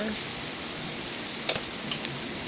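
Biryani ingredients sauté in a pan, giving a steady close sizzle throughout with a few small pops and clinks near the end, and a voice faint under it.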